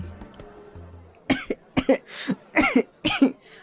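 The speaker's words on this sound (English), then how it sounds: "you're making me cough like I had corona or something" A person coughs repeatedly, about five harsh, close coughs in quick bursts after a faint electronic beeping.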